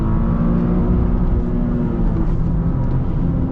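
A 2023 Toyota GR Corolla engine drones at high RPM while driving, a loud, continuous low groan with steady road and cabin noise and no sharp changes.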